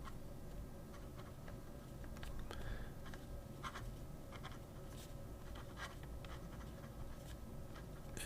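Faint, steady scratching and light ticking from an OMAS Bologna fountain pen with a flexible nib writing across paper, close and quiet for about eight seconds with no talking.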